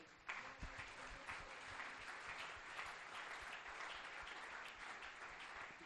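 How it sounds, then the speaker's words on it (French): A church congregation bursts into applause at a French-language service, dense sustained clapping from many hands that fills the room evenly and carries on to the end without pause. "Acclamons pour la parole du Seigneur."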